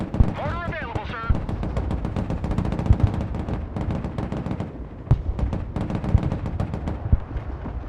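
Mortar and gunfire in the war game Broken Arrow, a string of sharp blasts and thuds scattered through a busy battle mix with game voices over it.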